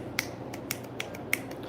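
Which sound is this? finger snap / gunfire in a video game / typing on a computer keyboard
finger snap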